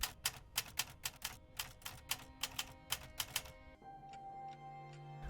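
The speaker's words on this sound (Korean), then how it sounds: "타자기로 편지를 작성합니다" A typewriter clatters out a letter in a quick, uneven run of about a dozen sharp, close key strikes, then falls to a quieter mechanical hum and faint ticks.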